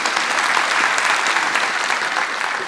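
A theatre audience at a stage performance applauds loudly and continuously, a dense, even wash of many hands clapping throughout with no pauses.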